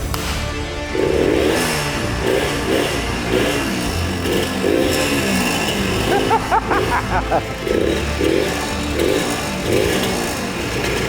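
An old motorcycle that has not run in decades, its engine idling after being kick-started, an uneven, pulsing mechanical chug with occasional blips of revving, while people talk over it.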